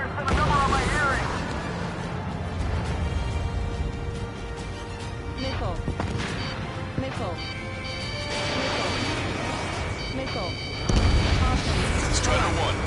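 Artillery fire in the video game Ace Combat 7, repeated heavy booms and crashes rolling over a dense battle din, with radio voices talking over it throughout.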